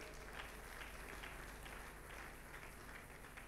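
A church congregation applauds at Easter, a steady, even wash of many hands clapping together, faint and fairly distant, with no pauses.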